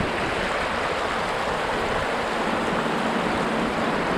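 Kreutz Creek flowing through Wrightsville, Pennsylvania: a steady, close rush of moving water with an even hiss and no talking.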